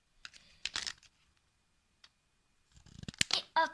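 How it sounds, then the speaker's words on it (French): Paper shapes being cut out with scissors for a homemade toy computer, giving short crisp snipping bursts separated by quiet pauses, with a denser run of rustling snips and paper handling toward the end, close and fairly quiet. "C'est galère de découper devant la caméra."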